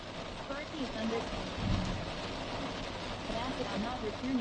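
Steady rain falls and patters on surfaces outdoors in wet weather, a constant broadband hiss lasting several seconds with faint low rumbles beneath and no voice over it.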